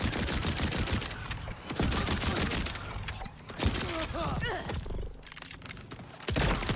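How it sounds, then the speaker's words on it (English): Rapid SMG gunfire from the video game Borderlands, dense bursts of shots running nearly continuously with brief gaps, loud and close, mixed with game effects and mechanical clatter. "And I will say that this particular SMG that I've got"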